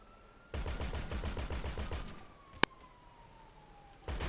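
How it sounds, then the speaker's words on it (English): Rapid bursts of gunfire from an infinite-ammo gun in the video game GTA, a dense rattling volley for about two seconds, then a single sharp shot, with a faint siren tone sweeping underneath. "I was trying to shoot next to you"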